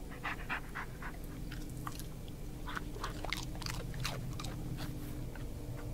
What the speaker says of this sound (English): I'm going to throw it out. Dog snack.